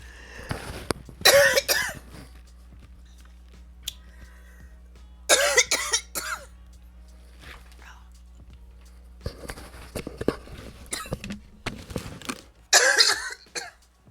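An adult coughs in a few separate loud bursts, with quieter gaps of breathing and low room hum between them, close to the microphone.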